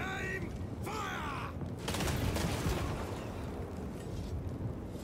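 Firing squad volley of gunfire in the Space Marine 2 video game, a dense burst of shots and crackling blasts after a brief pause, amid game ambience and faint bird-like cries.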